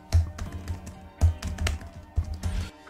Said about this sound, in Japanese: この指でタッチしながら場所をこう合わせてタイピングをしていくという感じになると思います